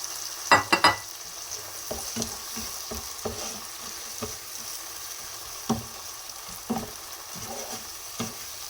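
Peppers frying in a pan for a cauliflower dish, a steady soft sizzle punctuated by several sharp utensil knocks and scrapes against the pan, loudest near the start, with no talking.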